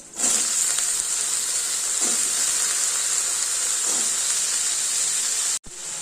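Small chopped potatoes drop into a pan of lightly fried, salted onions and set off a loud, steady sizzle and hiss that runs unbroken for several seconds before cutting off briefly near the end.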